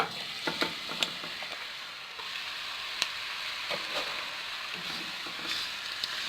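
Ground meat sizzles steadily in hot sunflower oil in a pan, a soft continuous crackle broken by scattered clicks and scrapes of stirring.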